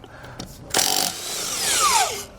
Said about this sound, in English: we'll then remove our lug nuts